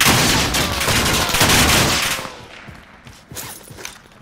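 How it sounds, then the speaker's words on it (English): PKM machine gun hip fire in a video game, a loud sustained automatic burst for about two seconds, then fading into scattered distant shots and echoes. "hip fire with the PKM all the way"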